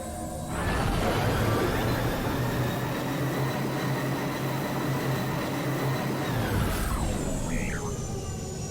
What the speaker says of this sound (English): So we hear the engine start right when I hit begin play.